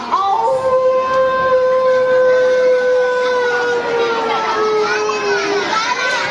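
Children's voices imitate a wolf howling in one long, sustained wail that slowly falls in pitch, loud and close.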